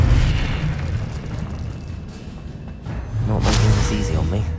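Confringo blast curse fired in the Hogwarts Legacy video game, a loud booming burst with a whooshing rush, followed by a second rumbling explosion and crackling magic effects.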